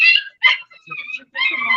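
Puppies at an animal shelter giving short, high yips and whimpers in a few close, quick bursts with small gaps between them, with brief human vocal sounds mixed in.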